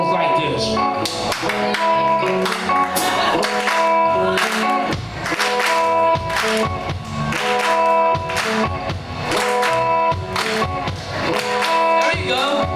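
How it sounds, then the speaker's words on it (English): At a live show in a pizza restaurant, a crowd claps along in steady rhythm with a band playing, the regular hand claps cutting through loud, full music. "We're all clapping together."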